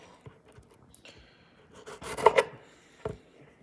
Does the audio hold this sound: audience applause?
no